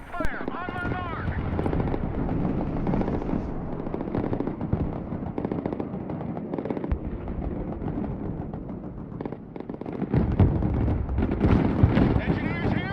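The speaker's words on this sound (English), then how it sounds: "MLRS ready. Send fire mission. Direct fire on my mark." Rocket artillery and gunfire from an MLRS fire mission in the military strategy game Broken Arrow, a dense, continuous roar of launches, bursts and rumbling impacts sustained loudly throughout, with a few sharper swells near the end.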